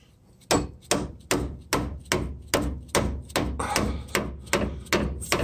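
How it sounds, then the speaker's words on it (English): Steel hammer blows on the tie rod end of a 1994 GMC/Chevy 1500 truck, about twelve loud ringing metallic strikes in a steady rhythm, close up with no talk. "So now, we'll see if we can't take this hammer to it."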